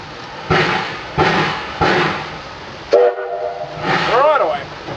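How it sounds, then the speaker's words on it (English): Steam locomotive Y542 working a train on the West Somerset Railway in April 2018, heard as three loud, evenly spaced chuffs followed by a sharp whistle burst and a wavering, sliding whistle tone, with faint voices in the background. "we will now cut to some footage of Y542 in action"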